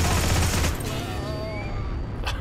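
Gunfire in the World War II shooter game Heroes and Generals: a dense burst of shots at the start, followed by a steady din of game noise and some further distant firing.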